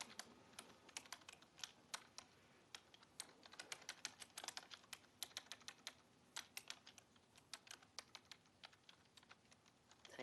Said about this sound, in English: Typing too fast, one moment.